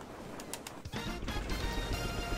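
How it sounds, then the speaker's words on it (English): Seagulls calling at Toad Harbor in the video game Mario Kart 8, with a few bird cries over a steady background of game sound and music. "Hi, Seagulls."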